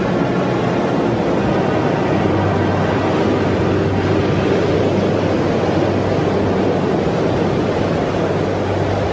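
Rough, choppy ocean waves churn against a beach as a continuous loud roar of surf and wind, steady throughout with no voices.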